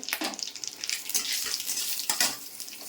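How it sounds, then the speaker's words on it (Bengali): Dried red chillies and nigella seeds hit hot oil in a pan, a close crackling sizzle in short bright bursts with light stirring clinks, fairly quiet and without talking. "তেলটা আমার গরম হয়ে গেছে দিয়ে দেবো দুটো শুকনো লঙ্কা ফোড়ন আর দিয়ে দেবো কালো জিরে দিয়ে দিলাম কালো জিরে"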